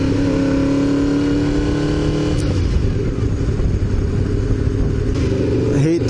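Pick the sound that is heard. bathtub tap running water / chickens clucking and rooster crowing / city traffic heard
city traffic heard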